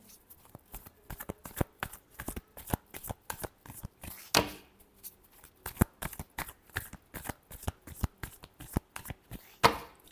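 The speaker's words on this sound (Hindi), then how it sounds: "last shuffle" A deck of tarot cards shuffled by hand at close range, giving a rapid run of crisp riffling snaps and soft slaps that repeats in bursts for about ten seconds with no talking.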